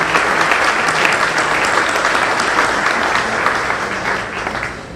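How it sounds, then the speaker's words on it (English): Sustained applause fills a large gala hall for a university's 60th anniversary celebration, dense and steady clapping from a big audience that tapers slightly toward the end. "can we each give everyone here a round of applause?"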